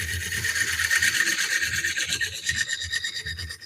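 Carbide tool cutting a walnut bowl on a wood lathe, a steady loud scraping rasp with pulsing low thumps as the blank spins, continuous and close with no talk.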